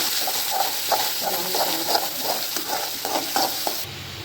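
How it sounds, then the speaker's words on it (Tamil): Onions fry and sizzle in a pan for chicken curry, a steady close hiss with repeated stirring scrapes in an irregular rhythm, ending as the sizzle suddenly drops. "வெங்காயம் இந்த மாதிரி பொரிஞ்சதும்"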